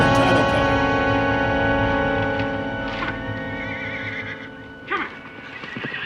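A horse neighs loudly and at length up close, a long whinny fading into lower snorts, then a shorter sharp whinny near the end; no talking over it.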